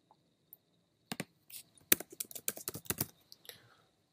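Keyboard typing on a computer while entering an email address into Gmail settings, heard as an irregular burst of close, crisp clicks with short pauses, alone without speech.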